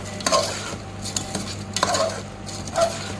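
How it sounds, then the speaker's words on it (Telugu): Rice mixture stirred in a pot, a spoon scraping and clinking against the metal in a few separate strokes over a low background hum. "దీన్ని కూడా బాగా కలుపుకోవాలి అంతా మిక్స్ అయ్యేలాగా"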